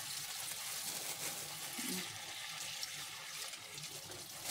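Food is rinsed under running tap water, giving a steady, faint hiss of flowing water with small splashes, and no voices.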